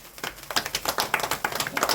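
Hand clapping in quick, uneven bursts, a handful of people clapping close by, sharp slaps with short gaps, moderately loud, faint voices underneath.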